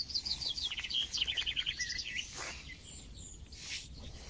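Small birds chirp in quick trilling bursts outdoors, fairly faint, with a hushed ambient background and a few rustling noises.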